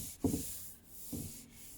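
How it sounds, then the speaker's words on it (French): Body filler on a Toyota Starlet spoiler is hand sanded, heard as two close, scratchy rubbing strokes separated by a brief pause. "je vais poncer le plus gros"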